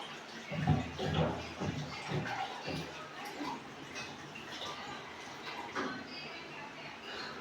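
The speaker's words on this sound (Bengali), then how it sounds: "এখন আমি জল দিয়ে দিচ্ছি এটাতে জল দিয়ে দিলাম" Water is poured into a ground spice paste in a blender jar, making a splashing, gurgling burst at the start that settles into softer trickling and sloshing, close by.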